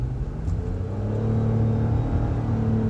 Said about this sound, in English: It's smoothly, so smoothly got to the power range of the gas engine and it just, you know, shot off.